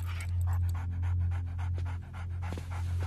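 A dog pants rapidly and steadily up close, a run of quick, breathy rhythmic puffs over a low constant hum, with a brief whimpery break near the end before the panting resumes.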